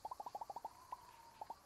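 Bird call in the video game Alba: A Wildlife Adventure, a fast series of about ten soft, hooting, owl-like notes followed after a pause by two more, faint and alone.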